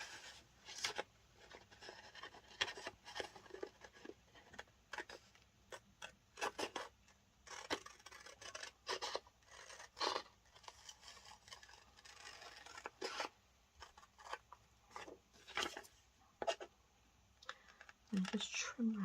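Scissors trim paper ephemera for crafting, giving a run of quiet, irregular snips and rustles close by, with a soft voice speaking now and then.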